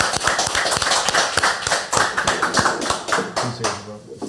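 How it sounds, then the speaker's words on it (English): A small podcast audience claps in a round of applause, with a dense patter of hands and thumps that fades out while a voice speaks over the end. "Can I get a round of applause,"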